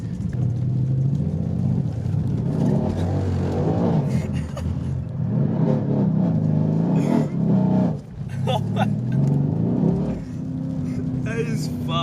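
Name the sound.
Subaru WRX car accelerating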